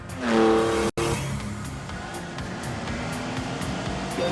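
A Lamborghini Countach's 48-valve 5.2-litre V12 accelerates hard with a loud, rising engine note, cuts out abruptly for an instant, then carries on as a broad, rushing roar.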